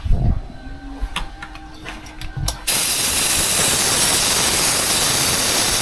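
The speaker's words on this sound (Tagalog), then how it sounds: "Dito pala ng compressor para gumana." A few quiet knocks and clatters from a scooter tire-changing setup, then an air compressor bursts into a loud, steady hiss that runs without letup to the end.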